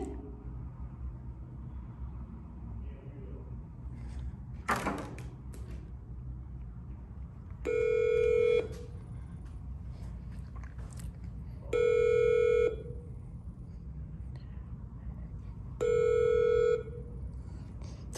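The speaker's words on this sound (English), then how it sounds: "This isn't working, sir. It keeps ringing." A telephone rings unanswered at a locked public lobby, three separate electronic ring bursts spaced several seconds apart, clear and fairly loud over steady low background rumble.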